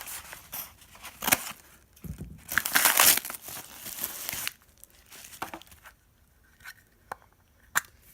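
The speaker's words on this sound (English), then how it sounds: "I'm going to cut this open." Cutting open a package from eBay holding magnets, with crinkling and tearing of packaging in short uneven bursts, close and moderately loud, then quieter scattered rustles.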